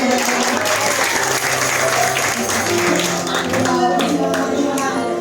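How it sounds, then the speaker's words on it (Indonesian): A congregation applauds warmly at a church anniversary service in Indonesia, sustained clapping from many hands mixed with background music, steady and full for several seconds. "wah kita tepuk tangan dong Bapak Ibu"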